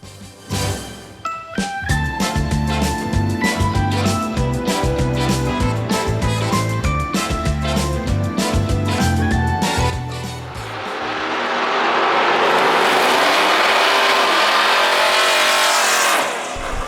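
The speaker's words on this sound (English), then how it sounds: "He has a 496 big block with a turbo 400 transmission." 1966 Chevy El Camino drag car with a 496 big block engine at a Las Vegas drag strip, idling in a loud lumpy burble with blips of throttle, then roaring off the line into a rising howl.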